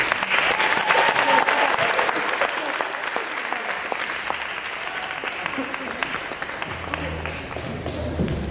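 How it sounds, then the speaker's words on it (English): A conference audience applauds a speaker being introduced, giving a dense, sustained round of clapping that stays even for several seconds before tapering off near the end, with a few voices surfacing underneath. "So give a round of applause for Joseph."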